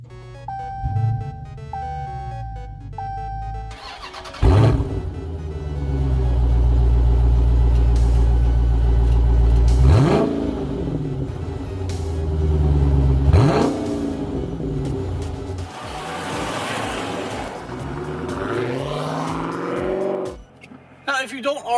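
A 2019 Dodge Challenger Scat Pack with its 6.4-liter Hemi V8 roars through several loud revs and accelerating bursts, each rising and falling, with a steady deep rumble between them.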